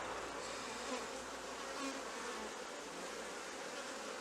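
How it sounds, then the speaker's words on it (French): Honeybees buzz at an open hive during queen rearing, a faint, steady, dense hum of many insects with no talking. "Les abeilles ont commencé à nettoyer."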